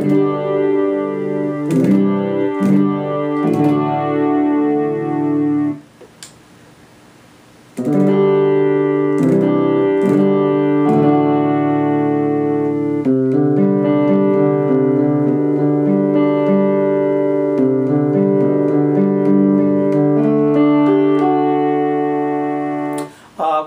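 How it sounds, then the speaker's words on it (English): Acoustic fingered guitar voice played on a Yamaha-style YRG 1000 Gen 2 digital guitar, a steady picked melody with sustained harmonic notes, loud and close, with a brief near-silent pause in the middle before playing resumes. "the acoustic fingered guitar, which sounds something like this"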